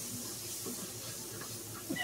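Steam hisses from an Instant Pot during a chicken and dumplings cook, a soft steady close hiss filling the clip with faint kitchen clatter, ending in a brief louder burst.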